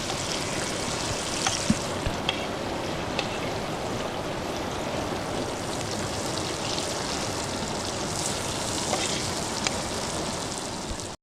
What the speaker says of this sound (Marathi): बघा आता आपली मच्छी फ्राय झालेली आहे